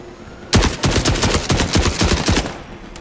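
Dense bursts of automatic gunfire rattle through a war zone survival video game, rapid overlapping shots starting abruptly and continuing loud and close for a few seconds.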